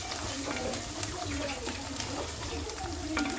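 Masala with chili powder frying in a pan, a steady close sizzle with faint stirring scrapes and a few crackles throughout.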